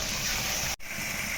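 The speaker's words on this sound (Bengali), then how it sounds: "মাংসটাকে সিদ্ধ করার জন্য জল দিয়ে দেব" Water poured onto fried meat in a pot for biryani: a continuous loud rushing gush close by, briefly cut off midway before the flow resumes.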